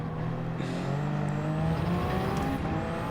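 Race car engine in the video game Gran Turismo 7, a steady high-revving drone held at constant pitch with a shift partway through, loud and continuous with no talk.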